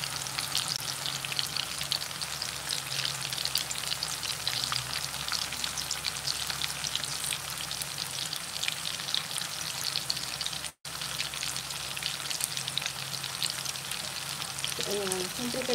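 Sweet potato fries bubble and crackle in oil, a dense, continuous hiss like rain that carries on almost unbroken, with a brief dropout and faint scraping toward the end.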